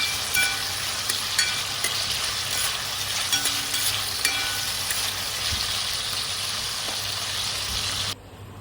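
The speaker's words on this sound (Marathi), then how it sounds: "याला आपल्याला काही पाच मिनटाचं फ्राय करून घ्यायचं" Eggplant and potato pieces frying in a pan, a continuous bright sizzle and crackle with occasional pops and stirring scrapes, steady and close, cutting off abruptly near the end.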